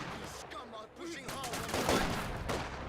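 Massed small-arms fire as infantry squads and Grenadiers clash in Company of Heroes 2, a dense rattle of overlapping shots building louder through the middle and mixed with a faint voice.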